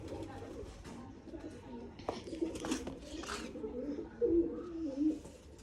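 Pigeons coo repeatedly in low, throaty rolling calls at close range, with a few chirps and soft human voices in the background.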